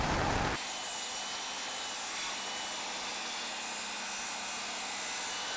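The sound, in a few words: table saw cutting a large wooden worktop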